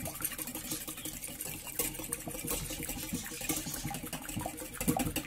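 Eggs at room temperature being beaten in a bowl, a fast, busy, rattling whir that runs continuously at moderate level without speech.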